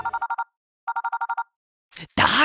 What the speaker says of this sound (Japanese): 監督生の電話が鳴ってるのか、もしかして